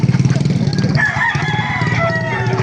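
A rooster crows loudly and close at a busy chicken market in Baliuag, Bulacan, one long drawn-out call over a steady background of clucking fowl and crowd noise.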